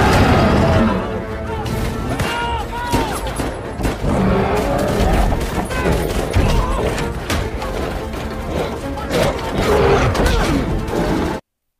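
Troops firing guns in the monster film Rampage: a chaotic, loud battle mix of rapid gunfire bursts, crashes and booms over about twelve seconds, with voices shouting beneath the noise.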